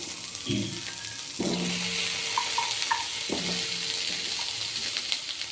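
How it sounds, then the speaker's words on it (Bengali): Onion and ginger stirred lightly in the thin film of ghee left in a pan, giving a soft continuous sizzle broken by a few short clinks and scrapes of the spoon, with no voices. "এবার এর গায়ে যেটুকু ঘি লেগে আছে আমি ওর মধ্যেই পেঁয়াজ আদা টাদাগুলো একটু হালকা নাড়াচাড়া করে নেব"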